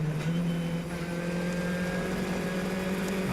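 Formula 1600 race car engine at Mont Tremblant during a botched gear shift, a loud steady onboard drone whose pitch dips briefly then recovers, with no voices.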